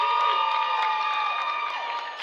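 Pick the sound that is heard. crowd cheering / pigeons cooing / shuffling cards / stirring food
crowd cheering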